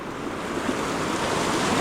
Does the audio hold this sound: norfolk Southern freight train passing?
no